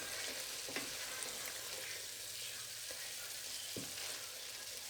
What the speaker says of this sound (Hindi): अब इसको हम भूनेंगे